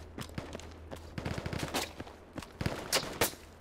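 Irregular gunfire in the Project Reality military shooter on the Burning Sands map: scattered single shots and short bursts crack at varying distances, some near and sharp, others duller and farther off.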